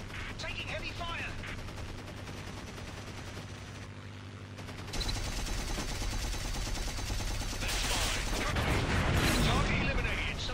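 Heavy gunfire in the aerial combat game War Wings, with a steady rattle of machine-gun bursts under engine drone, swelling louder about halfway through and building to dense overlapping fire.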